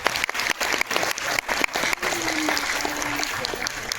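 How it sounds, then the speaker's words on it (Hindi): An audience at a motivational seminar applauds in a rapid, dense patter of clapping that continues for a few seconds with a voice speaking faintly beneath. "जोरदार तालियों से स्वागत करता हूँ।"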